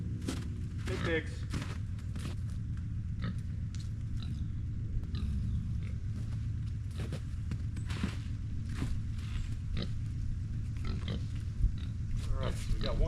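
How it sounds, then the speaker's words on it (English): Pigs grunt and snuffle close by, including a blind pig being moved into a trailer on a farm. Footsteps and a man calling to them mix in over a steady low hum. "Come on, here, pigs. Here, pigs."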